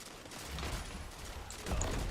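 Gunfire crackles in a Destiny 2 player-versus-player match: faint, distant bursts of shots with low rumbling impacts under the game's ambience, ending in a slightly louder thud.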